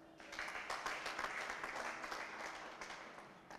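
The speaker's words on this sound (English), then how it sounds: "Why wouldn't we clap for that?" Audience clapping at a university anniversary address, a steady crowd applause heard at some distance, fairly even and soft, tapering slightly toward the close.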